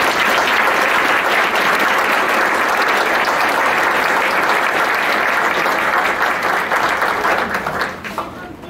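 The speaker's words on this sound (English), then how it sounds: "we'll give a great big round of applause for everyone" A large audience applauds steadily for honor society inductees at a women's college ceremony, dense sustained clapping that stays loud for several seconds before thinning out near the end.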